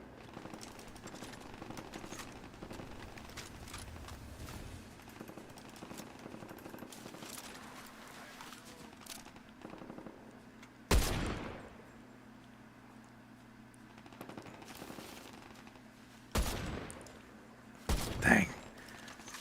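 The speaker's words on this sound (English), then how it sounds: "Wow, a lot of firing." Rapid gunfire from a video game shooter with snipers plays at low level, with bursts of automatic fire and a few sharper, louder shots standing out as distinct spikes over a muffled background.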